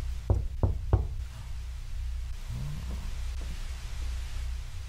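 Three sharp, loud knocks on a door in the video game Loop, evenly spaced in quick succession, followed by a low steady room hum with no talking.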